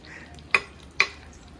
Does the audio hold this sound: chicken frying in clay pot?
yes